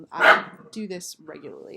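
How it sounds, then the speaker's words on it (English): A dog gives one sharp, close bark, followed by a person talking nearby. "I don't know if you can hear him, but he's about to start barking."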